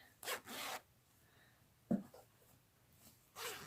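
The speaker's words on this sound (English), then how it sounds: "Now here's the unzipping." A zipper on a small sewn baby dress is pulled open in a few quick rasping strokes, close and fairly quiet, with short pauses between pulls and no talking.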